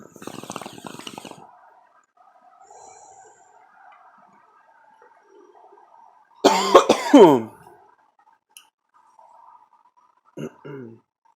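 A couple of harsh, raspy coughs burst out mid-clip, with a short rough hack earlier and a brief throaty sound near the end amid quiet stretches.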